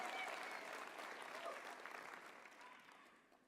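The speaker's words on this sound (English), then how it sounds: "Another round of applause," Applause at a university graduation ceremony after a choir performance, a broad, even wash of many hands clapping that is moderately distant and slowly fades out over a few seconds.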